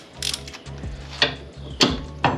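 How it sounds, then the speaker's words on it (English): Cordless battery ratchet spinning strut tower bolts loose on a Nissan 350Z drift project car, several short whirring bursts with sharp clicks between them, close and fairly loud. "Bust these off, get the strut tower out of our way. Got the handy dandy battery ratchet."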